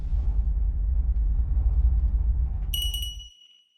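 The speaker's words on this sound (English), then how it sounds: "It was just a bell sound effect." A bell sound effect from the horror film The Autopsy of Jane Doe: a deep rumble fades out, then a single bright, high bell ding rings clearly and decays into silence.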